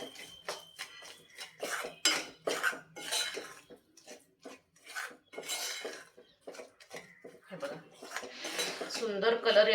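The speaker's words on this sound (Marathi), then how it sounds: "यामध्येच घालतीये मी हे भाजून घेतलेले अळीव हे देखील छान मिक्स करून घेऊया" Roasted garden cress seeds being mixed into a pan for panchakhadya jaggery barfi, with repeated clinks and scrapes of a spoon against the metal pan, close and fairly loud, in an irregular rhythm that grows busier toward the end.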